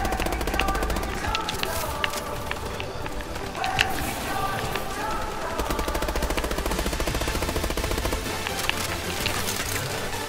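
Rapid, continuous automatic fire from an assault gun in Call of Duty Advanced Warfare Exo Zombies on Xbox One, a dense rattling stream of shots running through the whole stretch with other game noise and faint voices.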